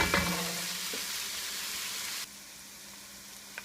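Onions fry with a steady, loud sizzle in a pot at medium heat as they are stirred, with a scrape near the start; the hiss drops to a quieter sizzle partway through, and a brief clink comes near the end.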